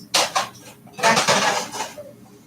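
A spoon stirring lentils in a metal pot, giving a few scraping, clinking strokes in two short bursts, close and fairly loud with no talking.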